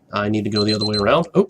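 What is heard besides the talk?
timer alarm going off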